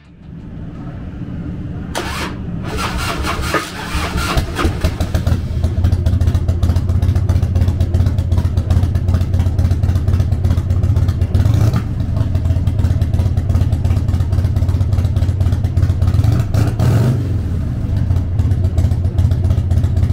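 A 1998 Harley-Davidson Softail Springer with an 81 cubic inch V-twin engine starts up and settles into a loud, steady, close idle, a deep loping rumble with some clatter and occasional throttle blips.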